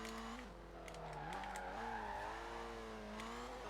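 A Citroen DS23 engine in Forza Horizon 4 revving with a steady droning tone that rises and falls as it pulls through the mid-range, moderately loud and continuous.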